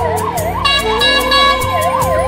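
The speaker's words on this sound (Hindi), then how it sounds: "ये एम्बुलेंस भी आ रहा है।" An ambulance siren wails loud and close on a mountain valley road, its pitch sweeping up and down in repeated cycles over a low engine rumble, with no talking.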